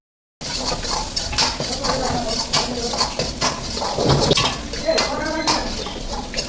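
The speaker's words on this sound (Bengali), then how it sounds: "চপ অনিয়ন দেওয়ার পর অনিয়নটাকে ভালো করে এর মধ্যেই তেলের মধ্যে ভালো করে ভেজে নেবো" Chopped onion frying in hot oil in a pan, a steady loud sizzle running throughout, with a utensil stirring and scraping and occasional metallic clinks against the pan.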